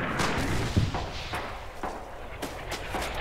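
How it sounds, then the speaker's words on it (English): Gunfire in the World War II shooter Red Orchestra 2, several sharp shots scattered over a continuous busy battlefield din, with one heavier thump early on and more cracks toward the end. "I'm shooting friendlies."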